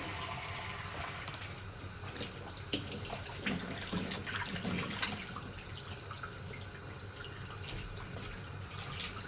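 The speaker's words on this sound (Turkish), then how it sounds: "Hala sıcak su verdikçe sularını veriyor dışarı." Hot water running steadily from a tap, a faint continuous rushing wash with small irregular splashes, no talking.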